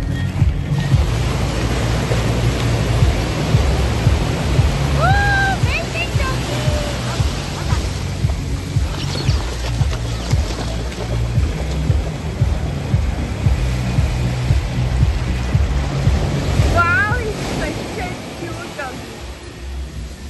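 Sea waves wash in continuously at Anjuna/Baga beach in Goa, a loud and close roar of surf mixed with wind rumble, with a few brief faint sounds over it.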